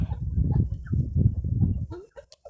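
Crossbred chickens and village hens cluck in low, repeated bursts close by, a few sharper calls toward the end.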